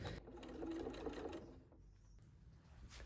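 A sewing machine hums quietly through flocked winter coat fabric in a short, continuous run that eases off near the end, faint and close with no talking.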